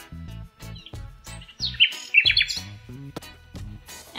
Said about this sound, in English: This is a nightingale.